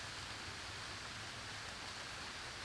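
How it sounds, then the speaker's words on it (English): Rain falling in a pine thicket during a deer hunt, a steady, even hiss of drops on the needles and ground, faint and unbroken throughout with no other sounds. "it has not stopped raining. It's actually getting harder now."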